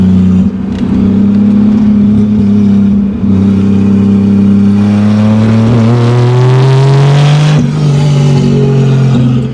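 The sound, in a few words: 1987 Toyota Supra with 2JZ-GE turbo swap revving and accelerating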